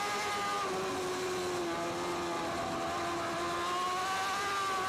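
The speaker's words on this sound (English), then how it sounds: "just if you listen to the engine notes, the engine tones, you might occasionally get a nick into third." A race car engine holding second gear at the Macau Grand Prix street circuit, a loud, sustained high-pitched whine with a steady tone that rises slightly over nearly five seconds.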